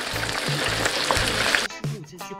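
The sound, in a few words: large chicken cutlet deep frying in oil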